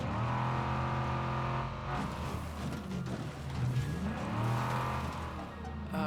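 A car driving in State of Decay 2, its engine humming and revving close by, with a rough crunching stretch midway and the engine tone swelling and dipping as it accelerates.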